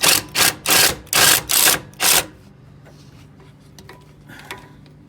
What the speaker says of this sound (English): now I'm going to loosen up that top bolt that's up behind the pulley